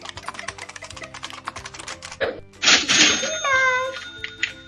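A toy card payment terminal has a PIN keyed in, giving a rapid patter of small plastic button clicks followed by a burst of electronic beeps and a sustained tone, with a voice mixed in.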